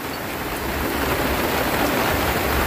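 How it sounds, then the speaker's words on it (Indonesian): Heavy rain at night pounds steadily on a hut shelter, a dense, continuous broadband hiss of drops close by with no letup and no voices. "bisa menikmati hujan malam ini"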